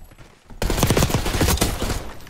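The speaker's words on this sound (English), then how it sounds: "Somebody got a shotgun." A loud, close burst of rapid gunfire from Black Ops 6 team deathmatch starts abruptly and rattles on for nearly two seconds.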